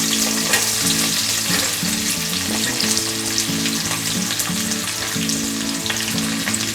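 Cardamom, cloves and sliced onion frying in oil for egg biryani, a steady close sizzle with stirring scrapes throughout, under a faint harmonic background tone.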